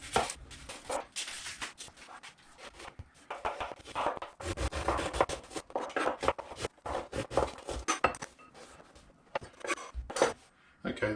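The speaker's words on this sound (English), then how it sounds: "Just going to peel and very finely chop an onion." An onion is peeled and finely chopped with a knife on a board, giving irregular bursts of quick tapping cuts and scraping, close and fairly quiet, with no voices.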